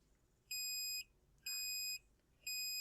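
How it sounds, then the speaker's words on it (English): Electronic beeper in a GPIO counter circuit toggling on and off: three identical shrill, pure-toned beeps of about half a second each, evenly spaced roughly a second apart, clear against a quiet background. "the beeper will toggle."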